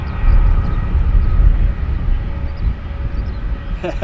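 A Wizz Air airliner takes off from Luton Airport bound for Budapest, its engines giving a steady, loud, low rumble and roar that carries through the whole stretch, with a brief brighter burst near the end.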